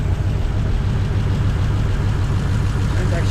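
A 1952 Ford engine with a troublesome carburetor idles steadily close by, a low, even rumble with a faint rhythmic chug and no change in pace.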